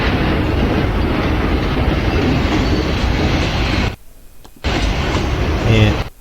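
A train carrying children rolls along the rails with a loud, continuous rumble and rattle. Near the end there is a brief cut to near silence, and then the rolling noise returns with a squeal rising at the close.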